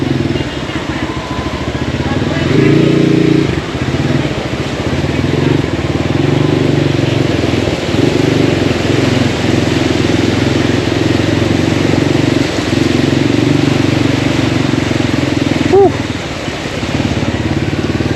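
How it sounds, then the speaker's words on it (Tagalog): A small Yamaha NMAX motor scooter engine drones steadily throughout, loud and close, with a low continuous rumble and occasional voices in the background, on a flooded street in Malabon. "Lakas ng NMAX na yun."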